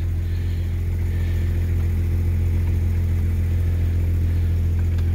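Jeep ZJ engine idling steadily as the vehicle eases into reverse, a close, continuous low hum with faint mechanical whir and no talking.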